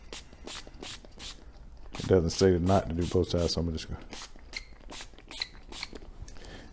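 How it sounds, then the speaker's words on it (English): Cleaner is sprayed from a pump bottle onto a K&N air filter from a 2010 Buick LaCrosse in short repeated hissing bursts, with someone talking quietly in the middle. "I'm just gonna spray it liberally like this"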